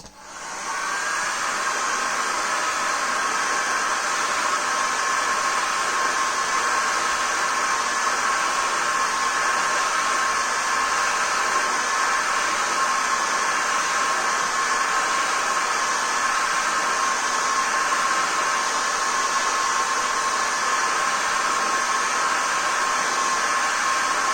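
Hot air blower running continuously to heat and soften the grip tape glue on a vintage golf club, a loud, steady whooshing roar held at an even level from start to finish.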